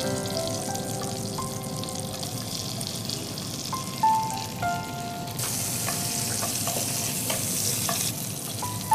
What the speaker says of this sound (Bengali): শুধু বাটার দিয়ে আমরা যখন সতে করি বাটারের সাথে যদি একটু সয়াবিন তেল দেওয়া হয় তাহলে বাটারটা পুড়ে যায় না